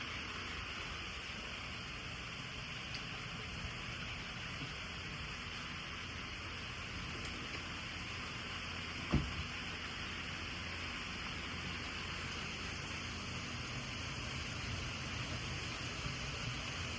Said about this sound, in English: I don't know if y'all can hear the rain,